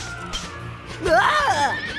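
A horse in the Dragon Quest VIII video game whinnies loudly while being broken in, a single rising and falling neigh about halfway through, preceded by quieter game sounds.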